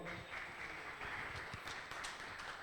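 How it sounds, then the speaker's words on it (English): Audience applause at a NetBCN meetup, a steady patter of many hands clapping fairly quietly and evenly throughout. "So for an applause for Paolo."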